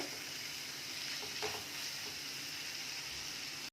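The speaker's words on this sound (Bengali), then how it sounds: "এটাকে এখন ভালো করে একটু কষে নেব যতক্ষণ না আমাদের টমেটোটা গলছে" Spices and tomato frying for an egg curry in a pan over a medium gas flame, a steady close sizzle with soft stirring scrapes throughout.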